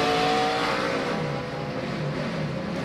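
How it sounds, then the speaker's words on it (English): Onboard NASCAR Busch Series race car engine at the 2006 Ford 300, roaring loud and steady with a brief dip in revs as a gear change finds nothing, then pulling on again; no talk. "It just sounded like when he was going to a gear, nothing was there."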